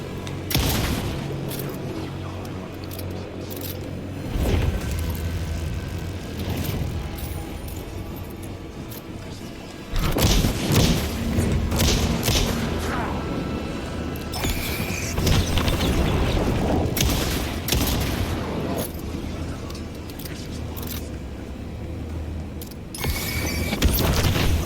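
Shotgun fire in the video game Alan Wake 2, played on hard difficulty: heavy booming blasts break through dense mechanical clatter and rumbling. A few loud, sharp shots stand out in an otherwise busy, noisy soundscape.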